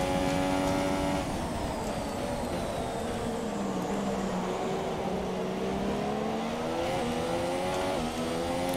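F1 race car drifting through turn one in F1 2017 at the Chinese Grand Prix, a loud, steady engine whine with shifting pitch and a long tire squeal running beneath it, heard close and without talk.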